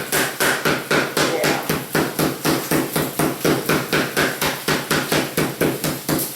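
A meat mallet pounds cutlets thin in a home kitchen, giving loud, close, evenly spaced thuds at about three blows per second, each one distinct and clear, with no talking.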